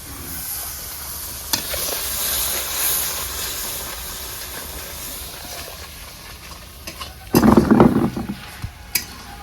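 Spice masala sizzling in a pan for a village-style mutton and potato curry, a steady hiss with scattered clicks, then a loud burst of bubbling, spitting steam as water is poured in near the end.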